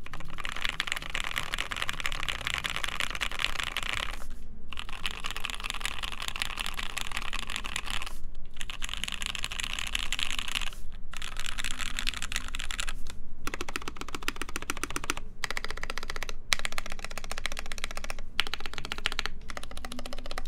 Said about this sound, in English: keycaps sound really good on it